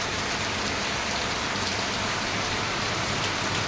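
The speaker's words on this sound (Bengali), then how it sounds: "প্রচুর বৃষ্টি হচ্ছে, প্রচুর।" Heavy rain pours steadily at night outside a gate, a dense, unbroken hiss of drops striking surfaces with no pauses or voices.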